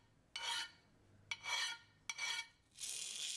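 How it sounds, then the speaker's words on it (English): Smooth single-cut file deburring a workpiece, four separate rasping strokes, each a short bright scrape, with quiet gaps between them. "Here I demonstrate the technique for deburring a workpiece quickly and easily."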